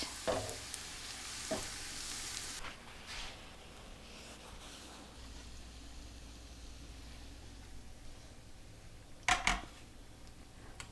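Cooked mutton being tipped into a thickened Kerala-style roast gravy and stirred, producing a loud sizzling rush at the start that settles into a soft, steady simmer, then a few sharp scrapes near the end.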